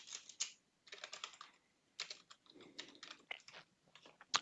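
Typing on a computer keyboard while searching for Windows Store in Windows, in short bursts of quick clicky keystrokes with pauses between, close and fairly quiet.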